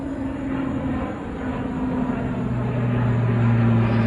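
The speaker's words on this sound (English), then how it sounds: "I would say it's peaceful when a plane flies by" A fixed-wing airplane passes overhead, its steady engine drone holding throughout and swelling slightly louder toward the end, heard alone without talk.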